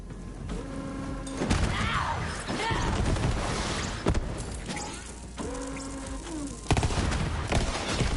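Gunfire from the video game Borderlands 3, bursts of shots and impacts scattered through a dense mix of game effects and music, loud and close with sharper peaks near the start and end.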